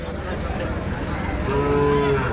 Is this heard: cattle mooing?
yes